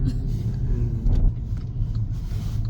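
A car drives along a palm-lined road on Jeju past cyclists, with a steady close engine and road rumble throughout and no talk.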